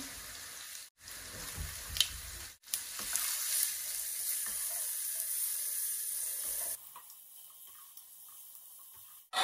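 Ginger and garlic fry in a pan with a steady hiss that briefly cuts out twice, then continues more quietly near the end.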